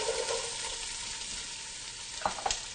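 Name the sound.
onions frying in extra virgin olive oil in a pan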